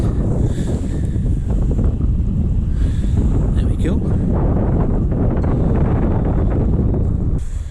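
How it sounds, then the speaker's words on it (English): Heavy wind at a beach buffets the microphone in a constant low roar, with a voice speaking briefly partway through. "It's a very windy day today, I must admit."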